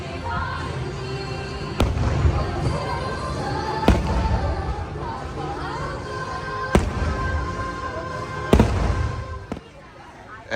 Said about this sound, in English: So we're walking into the Magic Kingdom during the nighttime fireworks